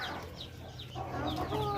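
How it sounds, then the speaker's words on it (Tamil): Native country chickens cluck on a farm, a flock close by giving repeated short clucks and calls over a steady outdoor background. "இங்கே இருக்கிறதெல்லாம் நாட்டி கோழி,"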